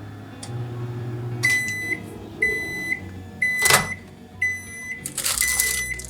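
A microwave oven running while candy melts in short timed intervals, with repeated beeps from the oven between quieter stretches of hum and a burst of clattering noise.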